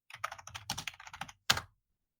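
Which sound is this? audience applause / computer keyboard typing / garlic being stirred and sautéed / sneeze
computer keyboard typing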